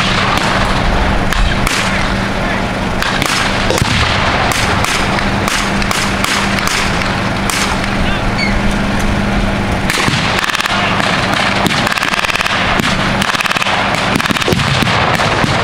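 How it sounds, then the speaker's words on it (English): Artillery and gunfire boom repeatedly across an outdoor WWII battle reenactment field at Rockford, Illinois, with frequent sharp blasts and thuds over constant rumbling noise. "Some other artillery rounds are starting to come in to try to hit the German armor out here."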